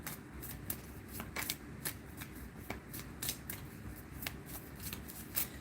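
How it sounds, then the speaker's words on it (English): A deck of tarot-style reading cards is shuffled in repeated crisp riffling bursts, close and fairly loud, over a steady low background hum with no talk. "Let me shuffle this card up."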